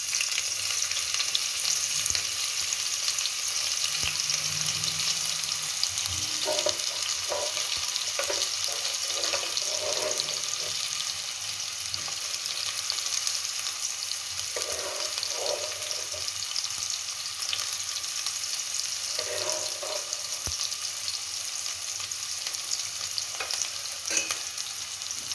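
Onion sizzles in hot oil with a bay leaf in a pan for a Telugu country chicken curry, a constant bright frying hiss under intermittent stirring scrapes and clinks.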